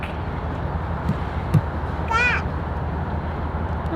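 A single bird gives a short, wavering call at moderate distance over a steady low rumble of engine or water noise, as a sailboat leaves the dock.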